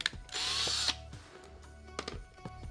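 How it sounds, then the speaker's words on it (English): A power drill bores a small hole in a Mazda Miata door panel: one loud, steady whine of just over half a second, then a few light knocks and handling clatter, with no voices. "Drilled a small hole."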